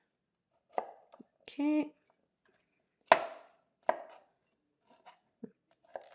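A knife chops cauliflower into small florets on a board, with several separate sharp cuts and one longer sawing stroke, and a brief spoken word between them.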